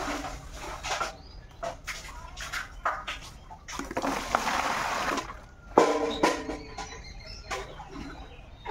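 Water is drawn and splashed at a village well, with sloshing and pouring in bursts, a stronger splash midway, and faint birdsong in the background.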